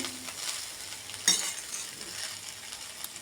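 Egg fried rice being stirred in a pan over low heat: a soft, steady sizzle with a sharp scrape or clink near the middle, close up and with no talking.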